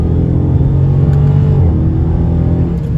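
A Dodge Charger Scat Pack engine rumbles loudly and steadily, its revs rising and falling as it downshifts, close by with no talking.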